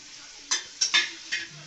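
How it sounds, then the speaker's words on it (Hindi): Paneer and spices fry in oil in a pan for a matar dish, with a soft sizzle broken by four quick scraping stirs of a utensil against the pan. "पनीर यहाँ पे फ्राई हो गई, यहाँ तेल में मसाला"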